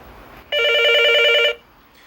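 A telephone rings in one sharp, loud electronic burst lasting about a second, heard alone and close against a quiet background.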